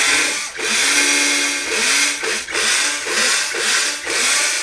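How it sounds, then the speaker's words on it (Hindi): A power drill bores holes in the casing of a homemade 12V-to-220V solar inverter, whining loudly in several bursts of about a second each with brief dips between, close up. "इसलिए मैं यहाँ पे जो है कुछ सुराख निकाल लेता हूँ"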